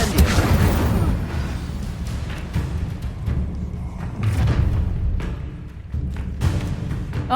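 Incendio fire spell cast in Hogwarts Legacy: a series of loud booming bursts and thuds, several sharp impacts spread across a dense, roaring backdrop of game sound.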